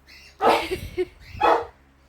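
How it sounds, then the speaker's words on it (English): Dogs barking indoors: a few sharp, fairly close barks in quick succession, with a short gap before the last one and no talk. "sorry, again, for the talking dogs, or the barking dogs"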